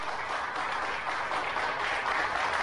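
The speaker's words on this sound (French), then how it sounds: "Applaudissez notre étoile, Floricienta," Steady audience applause for a singer closing an evening show, a dense even wash of many hands clapping that holds at moderate volume throughout with no voices on top.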